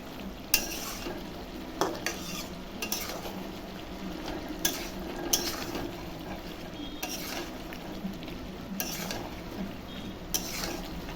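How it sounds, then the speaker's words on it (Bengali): Chicken pieces and softened onions being stir-fried in a pot, a continuous close sizzle broken by repeated scraping strokes of a spatula against the metal at a steady, irregular rhythm. "মাংসটা ভালো করে কষাবো।"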